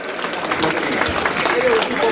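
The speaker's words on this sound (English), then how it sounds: "please give a big round of applause for our Singham Sri Tumme Amo IPS officer" A ceremony audience applauds at a felicitation for an IPS officer, a continuous wash of clapping with some crowd noise, moderately loud, with possible voices mixed in.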